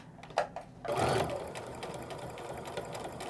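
A sewing machine stitches and reinforces seams on a fabric nesting bag with a 1/4 inch foot, a few short taps and then a steady close mechanical whir running to the end.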